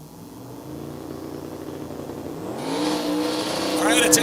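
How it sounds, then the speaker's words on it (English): A 1967 Camaro making a single drag-racing pass in the street race category at Orlando Speed World, its engine droning then rising sharply as it accelerates, heard at a distance under crowd and announcer-style noise. "William Cartwright making the single pass left side in the 67 Camaro"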